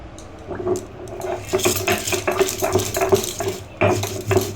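Yellow mustard seeds, green chili, black salt and coriander leaves are ground on a flat grinding stone, making a continuous gritty scraping and rubbing with scattered clicks of stone on stone, close by and fairly loud.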